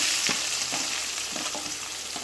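Onions sizzle in a pan with golden chana dal for kathirikai thokku, a steady close-up frying hiss with soft stirring scrapes coming at irregular intervals.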